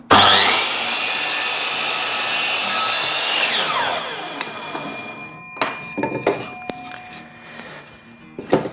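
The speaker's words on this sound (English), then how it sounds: "place it on the miter saw. It's already on a 45 degree. What you'll do is you'll measure it out, and you'll just cut this off." A miter saw set to 45 degrees cuts through wood with a loud whining buzz that winds down after about five seconds, followed by clatters and knocks of the wood being handled.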